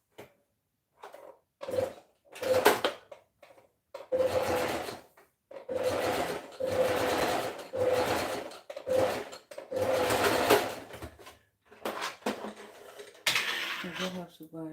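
A sewing machine stitches a top in short bursts of a few seconds each, separated by pauses. The bursts are close and moderately loud, with brief handling clatter between them.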